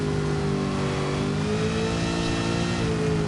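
A 289 V8 car engine in a racing video game revs hard and steady, its loud, harmonic-rich growl holding through the whole stretch without any talk over it.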